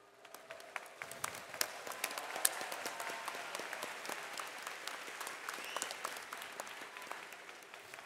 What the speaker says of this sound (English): Let's give one round of applause